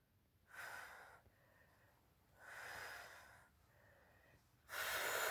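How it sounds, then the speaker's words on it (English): Heavy rhythmic breathing during an ab workout: three long, loud exhalations or huffs separated by quieter pauses, close to the mic, with no talking. "Keep breathing."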